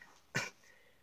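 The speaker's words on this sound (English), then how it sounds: "excuse the coughing" A single short, quiet cough from a man reviewing a Lego Transformers build, one brief burst in an otherwise near-silent room.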